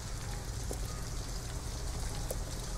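Steady night rain from the video game Detroit: Become Human, an even hiss of falling drops outdoors in a city, continuous and fairly loud with occasional brighter splashes, with no voices.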